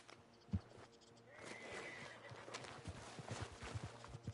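A horse whinnies while hooves clip-clop nearby in an uneven rhythm in the video game Red Dead Redemption 2, with soft ambient sounds underneath.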